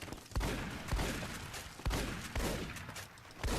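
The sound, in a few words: gunfire in the video game Fallout New Vegas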